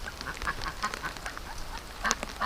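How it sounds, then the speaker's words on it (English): Several ducks quack in short, scattered calls indoors around a duck egg hatcher, some louder and nearer, others fainter, with no talk. "what's a duck doing in here?"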